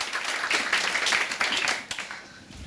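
An audience at a social enterprise talk applauds the introduction of a speaker, a steady, dense patter of many hands clapping at close-to-middle distance for a few seconds, thinning slightly toward the end.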